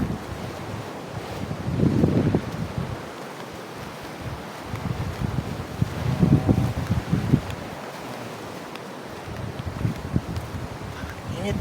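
Ocean surf washing onto an island shore at a very high tide, with broad low swells rising and falling every few seconds under steady wind rumble on the microphone.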